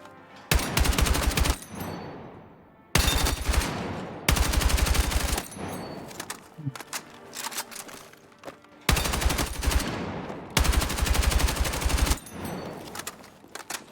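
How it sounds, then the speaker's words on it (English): Video game machine gun with a high rate of fire shooting in four sustained loud automatic bursts, each a dense rattle lasting about a second or two, separated by short pauses with fading echoes, no talk. "Definitely has more fall off than the MG7, but higher rate of fire."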